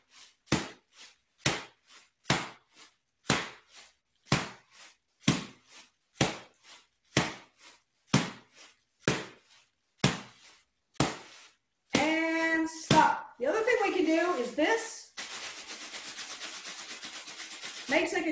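Evenly spaced single hand claps repeat about a dozen times, then give way to quick rhythmic rubbing and patting of the hands that imitates a chugging choo-choo train, close and clear.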